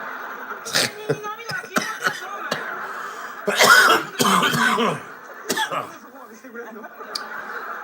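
Someone coughs repeatedly in short, sharp bursts, with a longer coughing fit midway, interspersed with quiet breathing.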